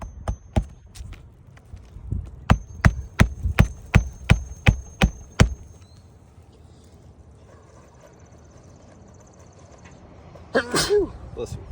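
A person sneezes once, a short sharp burst near the end. Before it comes a quiet stretch and, earlier, a run of evenly spaced hard knocks.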